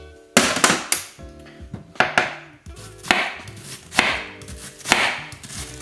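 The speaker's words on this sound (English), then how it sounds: "So cut up some onion first." A knife chops an onion on a cutting board in sharp, close strikes that come in short irregular bursts of several quick cuts, with brief pauses between them.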